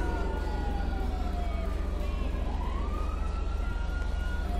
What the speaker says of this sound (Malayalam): അയ്യോ, പോലീസ് വരുന്നതുകൊണ്ട് സൈറൻ കേൾക്കുന്നു.